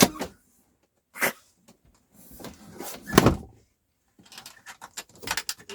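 A small drawer in a camper van is opened with a few short wooden clunks and rattling knocks separated by brief silences, close by and fairly loud.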